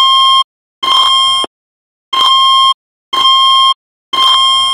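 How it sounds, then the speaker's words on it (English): A dormitory fire alarm blares loud, piercing electronic tones in a repeating on-off pattern, five bursts under a second each, close and harsh, with no talking. "the alarm goes off again"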